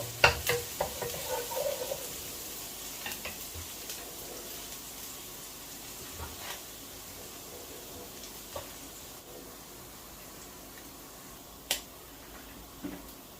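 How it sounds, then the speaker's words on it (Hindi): Crushed garlic frying in oil gives a quiet sizzle, with scattered clicks and taps as it is stirred, a few sharper knocks standing out now and then. "अभी मैं शामिल करूंगा इसके अंदर 1 table spoon garlic, crush garlic, और गार्लिक को मैं करूंगा ब्राउन"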